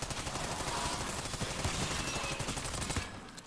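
Rapid weapon gunfire in the Black Ops 6 Zombies video game, a dense burst of loud repeated shots for about three seconds before cutting off.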